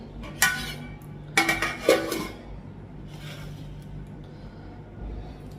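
Lids set over dishes of cooked vegetarian food in a home kitchen, giving a few sharp metallic clinks and clatters in the first two seconds, then quiet room background.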